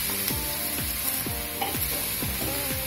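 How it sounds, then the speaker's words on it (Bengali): Medium-sized bottle gourd stirred with spices in a hot pan: constant sizzling with a regular series of spoon scrapes, close and clear. "একটু মশলার সঙ্গে ভালো করে নেড়ে মিশিয়ে নিচ্ছি।"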